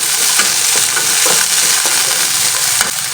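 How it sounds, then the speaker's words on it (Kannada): Green chillies and green peas fry in hot oil for a samosa filling, sizzling in a dense, steady hiss close up, with a few light stirring clinks and scrapes breaking through now and then. "ಈ ಥರ ಮೆಣಸಿನ್ಕಾಯಿ ಎಲ್ಲ ಚೆನ್ನಾಗಿ ಫ್ರೈ ಆದಮೇಲೆ ಸ್ವಲ್ಪ ಗ್ರೀನ್ ಬಟಾಣಿ ಹಾಕ್ಕೊತಾ ಇದ್ದೀನಿ."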